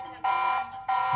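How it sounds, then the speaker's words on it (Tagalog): A loud built-in alarm on a Tapo C110 wireless CCTV camera blares in two long bursts with a short gap between them, steady and piercing. "Enable yung alarm natin, sample kung malakas"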